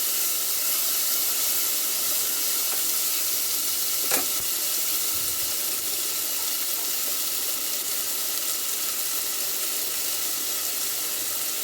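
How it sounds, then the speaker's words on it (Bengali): Bottle gourd stems, potato and onion fry in hot oil while being stirred, producing a loud, constant sizzling hiss with a brief scrape of the utensil partway through and no talking. "দিয়ে আমি হালকা নেড়ে নেবো তেলের মধ্যে লাউ শাকের ডাঁটাগুলো।"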